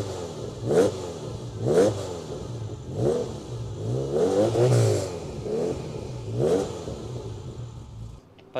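A Ferrari 328 GTS engine revving repeatedly, with five or six rising and falling blips of the throttle spread over several seconds, loud and close, with a steady idle between them.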